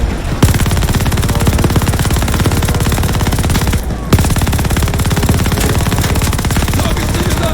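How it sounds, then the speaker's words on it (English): A light machine gun firing in a video game, a loud, rapid, unbroken stream of shots with one brief pause before the burst resumes. "Use that LMG! God, keep shooting, Wade!"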